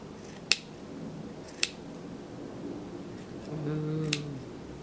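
Scissors snip at a yarn pom-pom in a few sharp, isolated cuts spaced apart, close but fairly quiet, with a brief low voiced murmur near the end.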